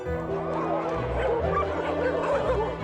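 Many stray dogs at a large free-roaming shelter barking and yipping together, a dense overlapping chorus of barks and whines at close to mid distance, continuous throughout.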